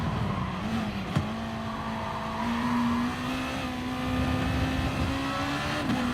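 A GT Sport race car engine holds a steady, high-pitched drone at speed on a fast lap, rising slowly in pitch with a brief sharp click near the start and no talk.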